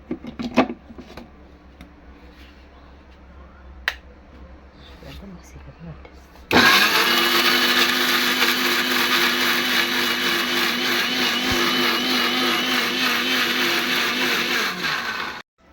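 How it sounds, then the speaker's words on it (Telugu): A mixer grinder blitzes ridge gourd with green chillies, switching on abruptly and running as a loud, steady whirring roar for about nine seconds before stopping, after a quieter stretch of kitchen handling. "ఫస్ట్ అయితే మెత్త గ్రైండ్ చేసుకొని అయినాకైతే వాటర్ వేసి మళ్ళీ గ్రైండ్ చేసుకుంటాం"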